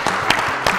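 A seated audience at an Indonesian palm oil panel event applauds in a short, steady burst, with a few sharper individual claps standing out.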